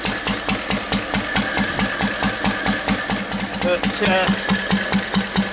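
A 1.5 horsepower Lister stationary engine runs steadily nearby with an even, thumping beat, its firing pulses continuing throughout while a voice briefly speaks over it.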